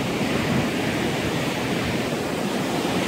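Ocean surf rolls in at San Clemente beach on a bright day, heard as a loud, continuous broadband roar of breaking waves with no pauses or voices.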